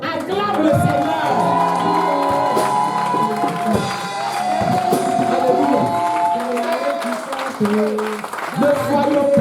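A church congregation cheers and acclaims at a worship service, a loud continuous swell of voices, shouts and clapping mixed with music, with speech running over it throughout.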